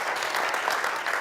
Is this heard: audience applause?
yes